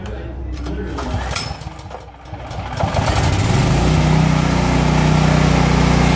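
A Kohler engine is cranked and fires up, its sputtering start rising into a loud, steady, close idle that runs on without pause.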